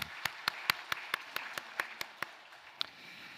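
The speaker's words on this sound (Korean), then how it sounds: "영광의 박수 올려드리겠습니다" A church congregation claps together in a steady rhythm, about fourteen sharp, evenly spaced claps at roughly four per second, moderately loud in a reverberant hall before tailing off.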